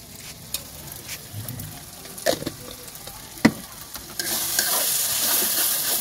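Duck meat seasoned with salt and turmeric is stir-fried in a pan, with scattered scraping and knocks from stirring that give way to a loud, steady sizzling hiss for the final seconds.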